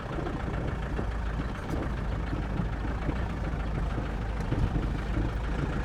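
A 1969 Mercedes 220 diesel rolls along slowly, its low steady engine drone and road rumble carrying a constant gritty rattle from the rusty rear of the car.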